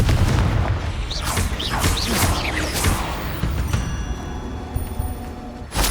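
Explosive blasts from the Confringo spell in the video game Hogwarts Legacy boom heavily in quick succession, with whooshing spell streaks and a dense rumbling wash of combat effects that stays loud throughout.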